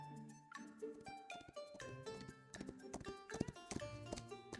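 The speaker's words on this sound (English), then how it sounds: "I hear the distant sound of galloping hooves." Horse hooves clip-clop in a quick rhythmic patter in a video game, set against a busy musical score that keeps going throughout.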